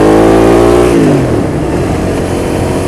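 A Suzuki SV650S V-twin motorcycle engine revs hard up close, its pitch climbing and then breaking into a rough, rumbling fall as the throttle is released, loud and steady throughout with no voices.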